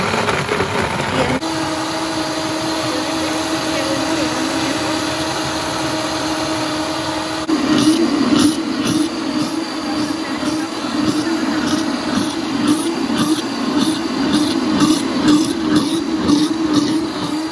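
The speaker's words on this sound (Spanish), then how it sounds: "Aquí ya sola se apagó la licuadora, sola en, como les digo, en el modo sopa, así se apaga sola." Blender on its soup setting puréeing chile for pozole, a loud continuous motor roar throughout that grows rougher and pulsing partway through.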